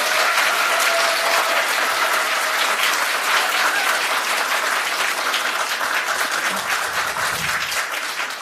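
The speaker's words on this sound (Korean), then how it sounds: "수고해주신 두 분 후보자님들께 다시 한번 큰 박수를 부탁드립니다." A crowd applauds the two candidates at a Democratic Party floor leader candidate debate, a loud, continuous roar of many hands that holds for over eight seconds before easing slightly, with no speech.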